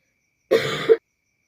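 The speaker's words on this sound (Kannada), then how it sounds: "ಮಾತಾಡೋಕ್ಕೂ ಇಲ್ಲ ಕೆಮ್ಮು ಬರ್ತಾ ಇದೆ" A woman gives a single short, harsh cough, close and loud against silence.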